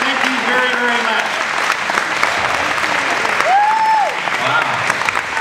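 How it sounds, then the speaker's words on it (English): Lively audience applause for volunteers at a magic and mentalism show, loud and sustained, with a few cheers and voices rising above the clapping. "A round of applause for our volunteers, ladies and gentlemen."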